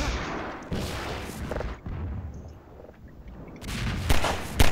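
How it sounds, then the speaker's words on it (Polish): Grenade launcher shots and explosions in the video game Half-Life 2, a dense run of heavy booms and blasts with louder bursts near the end. "Ej, kto do nas strzela z jakiegoś granatnika?"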